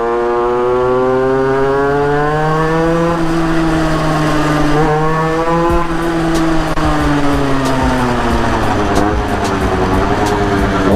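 A 50cc motorcycle with an aftermarket exhaust pipe rides through Douai at night, its deep, loud engine note held close as it revs up and eases off repeatedly through gear changes, with no break in the sound.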